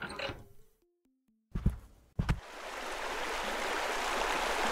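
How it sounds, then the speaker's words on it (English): A pool filling with water in the game Pool Cleaning Simulator: a few clicks and a short descending tone sequence give way to a steady, loud rushing of flowing water that continues to the end. "We need to fill back the pool."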